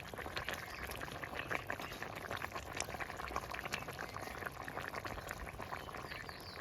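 Bata fish curry bubbles in a pot with coriander leaves added, a soft, continuous boiling crackle and fizz that stays even and fairly quiet from start to finish.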